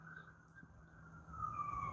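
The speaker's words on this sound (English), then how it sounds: "You hear the sirens?" Emergency sirens wail somewhere outside, a faint steady tone that rises slightly as it continues, heard from indoors with no one talking over it.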